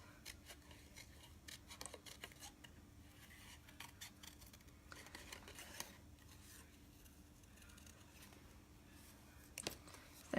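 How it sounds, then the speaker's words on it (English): Scissors snip around a stamped paper image in a quiet crafting room, a steady run of short, close cuts and rustles with no talking. "Let's just quickly fussy cutting"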